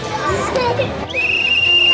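Whistle blown to start a race among a noisy crowd, one long steady high tone cutting in after a second of babbling voices and children at play.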